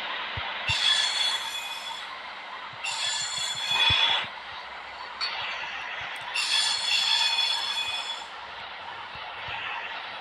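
A fast Pendolino 390 train runs in a train video game at high speed, with steady rumbling wheel noise and recurring bursts of high metallic squeal, close and continuous.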